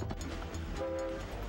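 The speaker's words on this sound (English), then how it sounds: "Oh, let's go on the chugga chugga choo choo!" Train ride in the Ratchet & Clank PS2 demo game, a steady rumbling rail clatter with a brief horn-like tone sounding over the middle, under game music.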